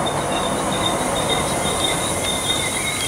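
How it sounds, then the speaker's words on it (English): Class 320 electric train near Glasgow, heard as a continuous loud rumble of moving carriages with persistent high-pitched wheel squeal running throughout, close by and steady. "Right, this is the train I'm getting to Glasgow Central low level"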